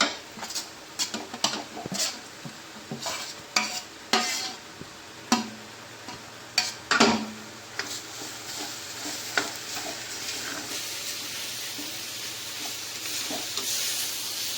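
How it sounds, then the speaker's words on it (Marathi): A spoon clacks and scrapes irregularly through a Konkani-style vegetable dish with salt and mashed ingredients in a pan, soft sizzling beneath, settling into a steadier frying hiss toward the end. "पूर्ण भाजी छान मिक्स करून घ्यायची आहे."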